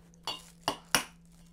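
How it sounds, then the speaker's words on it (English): Three sharp cracks of eggs being broken against a bowl while making zucchini tots, evenly spaced and close, clicky and brittle in a quiet kitchen. "And my favorite part, we're gonna crack the eggs."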